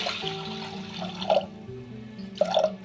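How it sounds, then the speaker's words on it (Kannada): Water pours and splashes in short bursts into a pot of soaked rice, with faint clinks in between, close up and fairly quiet. "ನಾವು ಇದಕ್ಕೆ ನೀರು ಹಾಕ್ಕೊಳ್ಳಿ"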